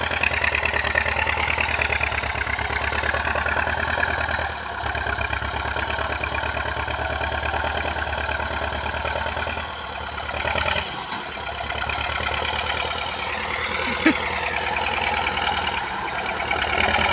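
A three-cylinder tractor engine idles at close range with a steady, loud, lumpy chug, its low rumble holding through with small dips in level.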